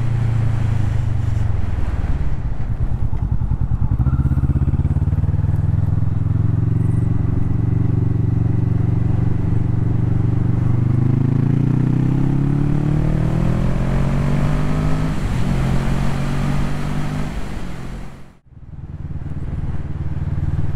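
A Kawasaki Vulcan S motorcycle rides along with a loud, close engine drone that rises and falls through gear changes under heavy wind rush, easing briefly near the end before picking up again.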